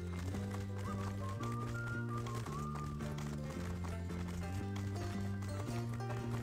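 Horse hooves clip-clop at a steady trot in the Bud Spencer & Terence Hill Slaps and Beans game, playing quietly beneath an upbeat original music score.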